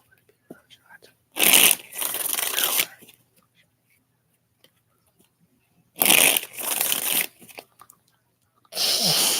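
Tarot cards are shuffled by hand in three separate bursts of close, crisp riffling and flapping, each lasting a second or two, with near silence between them.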